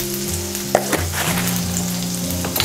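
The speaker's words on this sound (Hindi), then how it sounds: "और अब हम इसमें डालेंगे थोड़ी सी हींग।" Asafoetida sizzling in hot oil with ginger for a green pea kachori filling: a steady, close frying hiss with a few light clicks over a low constant hum, no voices.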